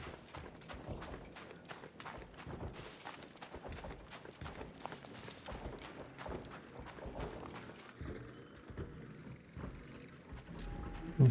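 A video game character in ARC Raiders runs, with a steady, rapid patter of footsteps at moderate loudness over busy in-game ambience. Nobody speaks.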